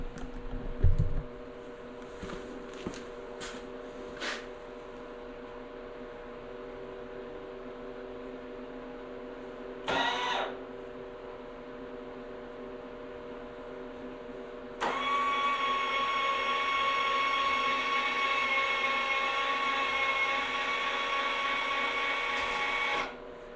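Hydraulic cylinder on a zero-turn snowblower lift lowering the attachment to the ground, a steady mechanical whine with a motor-like drone starting midway and running alone to the end after a short earlier burst.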